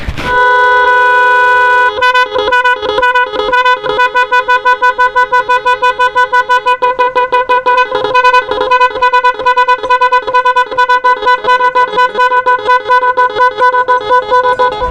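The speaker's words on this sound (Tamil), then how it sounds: "ஹார்ன் சவுண்டு நல்லா இருக்குது." A Sony 1350 musical horn fitted on a motorbike plays a loud, close, electronic melody of rapid repeating tones in a continuous tune, with no talking over it.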